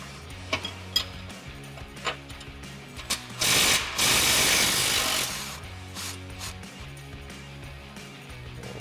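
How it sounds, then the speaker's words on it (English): An impact wrench with a 21mm socket hammers at the upper track bar mounting bolt on a Jeep Wrangler JK during a suspension lift install. It gives one loud, harsh burst of about two seconds among scattered clicks and clanks of tools. "grab our 21mm socket on our impact and our 21mm wrench to go ahead and remove our"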